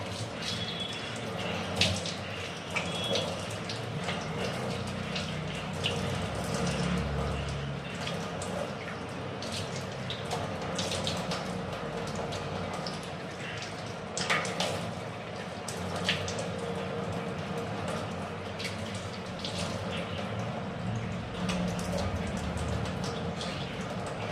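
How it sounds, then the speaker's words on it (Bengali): Tap water runs steadily into a basin while a face is washed, with splashing and irregular drips over a constant low flow, fairly quiet and close, with no talking. "এবার মুখটা ধুয়ে নেবো"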